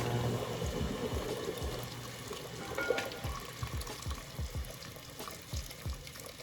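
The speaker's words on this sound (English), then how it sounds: "Now I am pouring my hot water" Steady stream of hot water pouring into a pot of cow feet and skin, with splashing and a few low thuds, close by and continuous.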